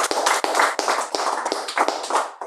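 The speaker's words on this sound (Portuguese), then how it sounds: "Palmas para Jesus." A church congregation claps in quick, even rhythm, a run of sharp, close slaps repeating steadily with short gaps between bursts.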